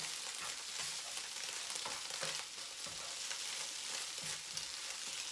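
Egg and tofu frying in a single pan over a propane stove in a tiny house, stirred steadily, with a continuous close sizzle broken by soft scraping strokes, no voices.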